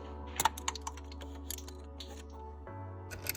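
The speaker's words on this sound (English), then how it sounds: "Using a pick, remove the plastic cover" A pick pries a plastic cover off the engine of an MK4 1.8T Volkswagen Beetle, Golf, GTI or Jetta. It makes a series of sharp little plastic clicks and snaps up close, scattered over a low steady hum.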